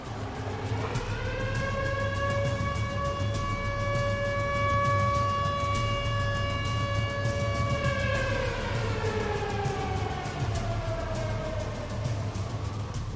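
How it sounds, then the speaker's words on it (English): Tornado warning sirens wailing in Joplin, one long sustained rising and falling tone that holds steady and then slowly drops in pitch over a constant low rumble. "The sirens start going off again for the second time."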